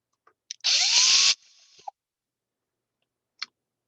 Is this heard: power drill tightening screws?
yes